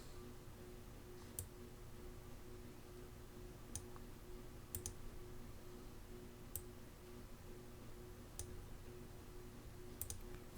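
Computer mouse clicks sound while a robot rig is posed in Blender. Half a dozen faint, crisp single clicks are spaced irregularly over a low steady hum, with no talking.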